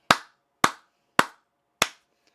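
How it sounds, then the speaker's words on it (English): Four single, sharp hand claps ring out evenly spaced about half a second apart, each crisp and close with a short decay into silence, like one person clapping alone rather than a crowd. "Let's give a round of applause for the Amish."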